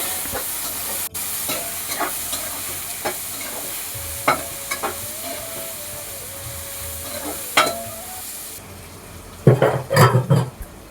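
A tempering with salt and turmeric sautéing in a pan, a soft steady sizzle with sharp scraping strokes of a spatula at intervals and a burst of louder clatter toward the end, close.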